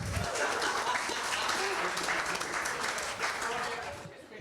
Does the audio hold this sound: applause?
yes